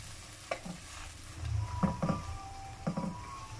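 Onion paste being stirred in a frying pan, faint sizzling under a few soft scraping strokes of the spoon at an uneven pace, close by with no talking.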